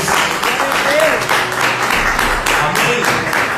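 A church congregation claps together in a steady, loud wash of applause during a celebration service, with voices mixed in and no pause.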